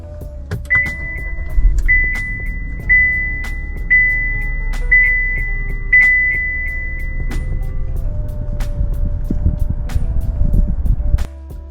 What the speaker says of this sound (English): Here's a quick startup too.